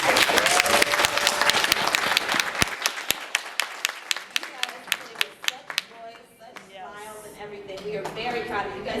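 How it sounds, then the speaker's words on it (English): A round of applause from the audience at the close of a Bible quiz game, with dense clapping for several seconds that thins into scattered individual claps before fading under murmuring voices. "Let's give them a round of applause."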